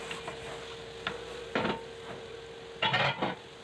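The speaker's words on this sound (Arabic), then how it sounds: "هديها تشويحة كده على السريع وهقلب فيها" Quick stirring of chopped vegetables sautéing in a frying pan, with a few distinct scraping strokes and soft background sizzle, close and moderately loud, no talk.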